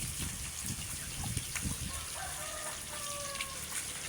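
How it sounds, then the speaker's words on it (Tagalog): Pet chickens cluck and call softly over a background of running water, with a few short, rising vocal notes from the birds in the middle distance. "Ayan, mga alaga kong manok guys"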